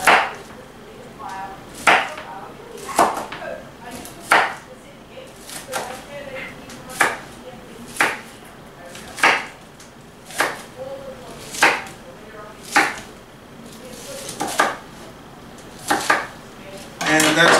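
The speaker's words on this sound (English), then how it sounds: "These I am going to chop a little bit finer" Knife chopping green onions finely on a board for a beef stew, a steady run of about a dozen crisp, evenly spaced close-up chops with faint background noise.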